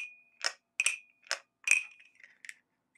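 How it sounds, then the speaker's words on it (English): A wooden cricket percussion instrument gives five or six short, sharp clacking chirps in an uneven rhythm, loud and close, with silent gaps between them and no other sound. "This is called the cricket."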